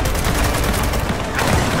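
Dense automatic gunfire from the video game Gears of War 4 rattles continuously and loudly, a rapid burst of overlapping shots and booms filling the whole stretch.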